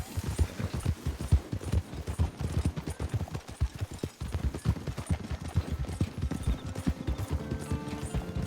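Horse hooves in a video game, a fast, steady run of close clip-clopping beats that keeps going the whole time, loud over a low ambient bed.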